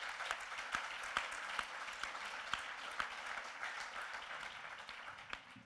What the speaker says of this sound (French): que je vous demande d'applaudir et de remercier